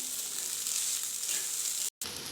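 Salted soya chunk mixture frying in a pan for soya chow rolls: a continuous close, bright sizzle with soft stirring movement and a brief cut near the end.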